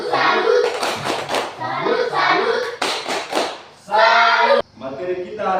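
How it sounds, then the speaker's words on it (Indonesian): A classroom 'tepuk salut' clapping routine: sharp rhythmic hand claps in quick patterned bursts, close and loud, mixed with children's voices chanting along. "Tepuk salut untuk kita."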